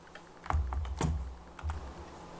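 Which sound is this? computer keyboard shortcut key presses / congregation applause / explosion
computer keyboard shortcut key presses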